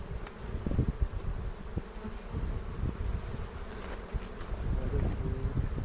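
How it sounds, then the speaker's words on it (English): Honeybees on a hive frame hum in a dense, continuous buzz close by during a hive inspection, with occasional bumps and handling noises over the drone. "this frame's full of bees"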